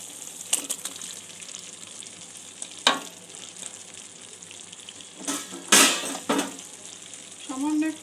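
Paneer pieces added one by one to spiced oil in a pan, frying with a low continuous sizzle broken by several louder bursts of crackling as each piece goes in.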